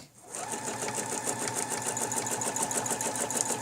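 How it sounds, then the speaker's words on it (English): A sewing machine runs steadily, quilting stitches along a ruler across a fabric block, a continuous close, even mechanical whir that starts abruptly and holds at a constant pace. "Bring it up and stitch back."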